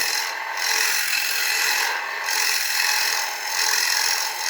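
A sanding tool rubs steadily against an ash wood bowl spinning on a lathe, making a close, continuous abrasive hiss that swells and eases in a few slow waves.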